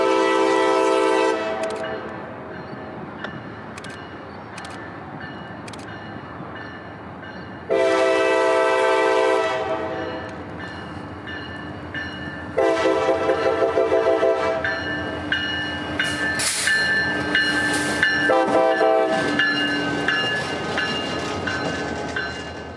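A CSX freight train on the Tampa Division near Yeoman and Rockport yards sounds repeated loud horn blasts, long and short, over a steady rumble of rolling railcars and clattering wheels close by.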